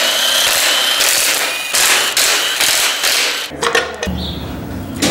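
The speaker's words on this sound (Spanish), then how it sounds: "De igual manera vamos a retirar todos los tornillos que sujetan esta tapa." Tools work the engine cover of an MB Tekken-250 motorcycle as its screws are removed, a loud rattling, jackhammer-like buzz in several bursts. Quick taps and knocks of metal parts follow near the end.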